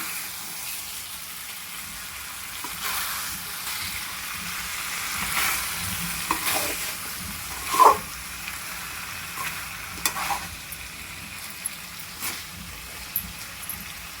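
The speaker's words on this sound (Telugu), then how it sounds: "ఇప్పుడు ఇలా ఫ్రై చేసుకోవాలి ఫ్రెండ్స్ నూనెలో" Chicken pieces frying in oil in a kadai for an Andhra-style chicken fry, a steady close sizzle with occasional scraping stirs and light clinks of a spoon against the pan.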